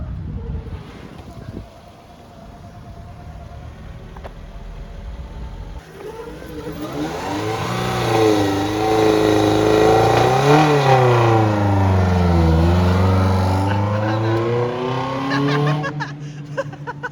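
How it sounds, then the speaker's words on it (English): Chevy hatchback doing a burnout, its engine revving hard and loud up close, pitch climbing and falling in long sustained sweeps over a steady roar, with a quieter idle at the start. "My brother said he wants to try to do a burnout in the hatch."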